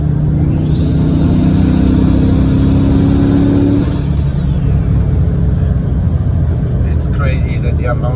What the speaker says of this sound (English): And that turbo spool here.